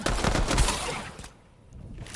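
Gunfire in Fortnite rattles in rapid close bursts of shots, then drops away into a brief quiet before faint activity returns; nobody speaks.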